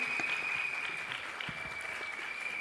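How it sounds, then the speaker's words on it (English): Crowd applause at a school annual day celebration for Sri Ram Wonder Years, steady clapping throughout with a thin high tone running beneath it. "Can we have a huge round of applause for Sri Ram Wonder Years, everyone?"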